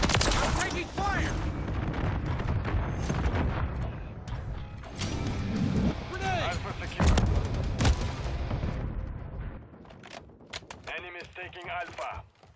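Gunfire and explosions roar through a Call of Duty: Modern Warfare 3 multiplayer match, with dense, sustained bursts of shooting and booms that stay loud for most of the stretch before thinning out near the end, mixed with game announcer voices.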